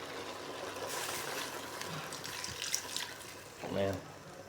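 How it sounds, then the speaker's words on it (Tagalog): A little water poured into a cooking pan of sautéed shrimp and carrots, soft faint trickle and splash under a quiet kitchen background, with a brief louder sizzle-like burst near the end. "Tapos lagyan natin ng konting tubig."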